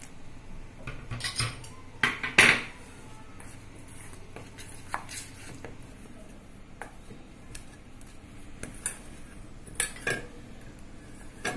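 Bhajani flour dough for kadboli is kneaded stiff in a metal pan, making soft squishing and pressing sounds broken by sharp clinks of hand and utensil against the pan. The sounds come close up in irregular bursts, with no talking.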